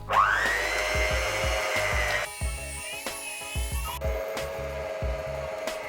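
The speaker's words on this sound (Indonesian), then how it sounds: "Oke, mixer dengan kecepatan rendah hingga tercampur rata." An electric mixer whirs loudly, its motor pitch shifting between low and high speeds, with rhythmic thumping as the beaters work through donut dough.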